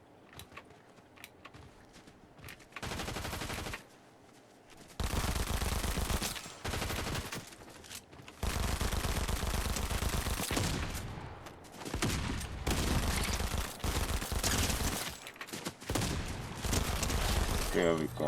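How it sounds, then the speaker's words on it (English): Bursts of Uzi fire in a shooting video game crackle in rapid, dense volleys, with short quiet gaps between long sustained sprays of automatic shots. "Skilled shooting with the Uzi."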